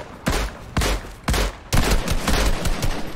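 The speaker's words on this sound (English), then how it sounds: "Someone's shooting me." Gunfire in the video game Fortnite, several loud rapid bursts of shots in quick succession, close and punchy, over about three seconds.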